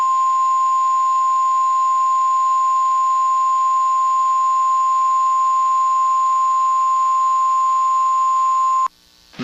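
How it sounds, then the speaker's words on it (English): A NOAA Weather Radio warning alarm test sounds as a single loud, steady electronic tone held for about nine seconds, then cut off abruptly. "This is a test of the NOAA Weather Radio warning alarm device."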